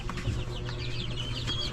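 A weak, sluggish chicken clucks softly in short repeated notes over a steady background hum.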